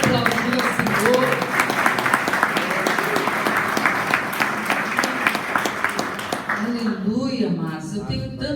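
A church congregation applauds in praise of the Lord, a dense steady wash of clapping that carries on throughout, with a voice talking over it and cheering as the applause thins toward the end.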